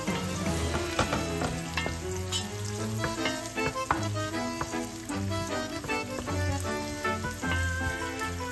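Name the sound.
onions frying and sizzling in a pan for lechon paksiw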